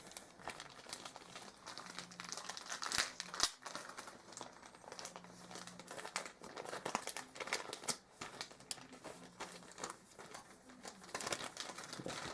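Tape and plastic packaging of a Masterpiece Sideswipe toy crinkle and crackle up close in irregular bursts, with soft tearing and rustling throughout, fairly quiet and without talk.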